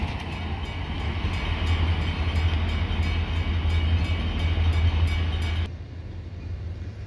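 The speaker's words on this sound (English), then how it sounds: "the train is coming back north now with the rest of the load" A freight train rumbles steadily past a level crossing, a loud continuous roar of rolling wagons with rhythmic clicking, then the noise drops abruptly as the last cars pass.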